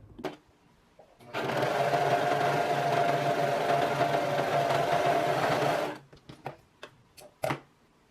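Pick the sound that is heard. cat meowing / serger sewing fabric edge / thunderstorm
serger sewing fabric edge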